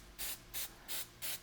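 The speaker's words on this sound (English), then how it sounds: "you need to spray them with nonstick" Nonstick cooking spray hisses from an aerosol can into metal egg rounds in four short, even bursts, close and clear, with no talk.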